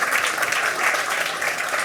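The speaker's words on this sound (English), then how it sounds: "A debate, applaud for them both" A debate audience applauds both speakers, a dense, even burst of many hands clapping at steady strength throughout.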